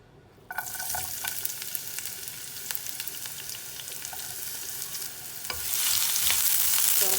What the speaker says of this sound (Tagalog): So, start na tayong maggisa guys.